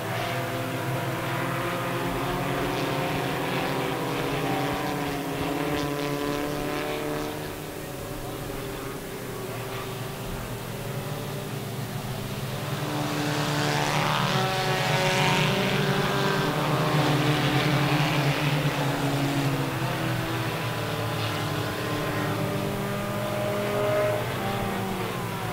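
IMCA Sport Compact race cars roar around RPM Speedway, a pack of engines droning and rising as they pass, loudest midway, with an announcer commentating over the din.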